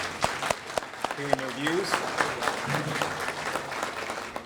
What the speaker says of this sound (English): Big round of applause for them showing up